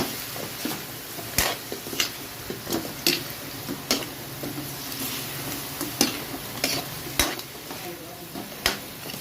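Chicken wings stirred in a hot pan for a Filipino dish, giving repeated scraping clinks of utensil on metal over a steady sizzle, close and moderately loud with no talking.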